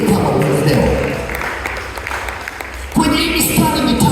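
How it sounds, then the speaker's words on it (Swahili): Church congregation clapping for Jesus, sustained applause from a crowd filling the room and swelling again near the end, with a preacher's voice over it. "Ungemshangilia Yesu kwa makofi mengi kama unaelewa."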